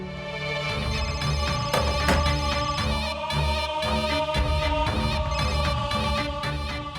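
A phone rings with a looping melodic ringtone, steady and fairly loud for several seconds with repeating tonal phrases and no talk over it.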